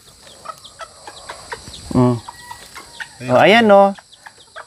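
Chickens cluck nearby beside a batch of newly hatched chicks at a farm in the forest. The clucking comes as a couple of short, nasal, wavering bursts over light background rustle, and a person speaks briefly.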